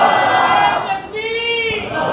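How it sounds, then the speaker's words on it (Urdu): An audience at a religious sermon chants slogans together, a loud, close mass of unison voices rising and falling without pause. "بزرگوں نے اجازت سے نعرے مارا"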